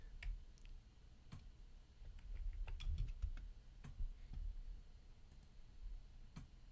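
Irregular clicks of typing on a computer keyboard, scattered keystrokes in uneven bursts, fairly close and moderately quiet over a low background rumble.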